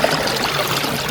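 Water is poured steadily from a container, a continuous trickling splash that stays close and even, with no voices.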